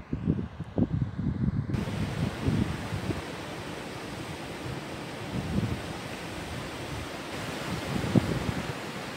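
A steady breeze rushes and buffets against the microphone beside open water near a dam, with low gusty rumbles rising and falling throughout and no voices.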